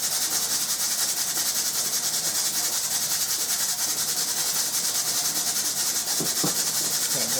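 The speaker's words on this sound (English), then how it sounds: "We're going to whisk this all up." A whisk scrapes steadily around a bowl of lemon bar filling with lemon zest, making a continuous, close, hissing swish with no pauses.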